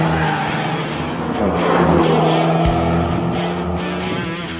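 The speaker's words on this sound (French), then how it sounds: "Il s'agit de la Golf GTI Sport Club que nous vous promettons de malmener sur le circuit de" A Volkswagen Golf GTI Sport Club driven hard on a race circuit: steady engine drone with a rising rev swell and a brief thump, close and loud, with no voices.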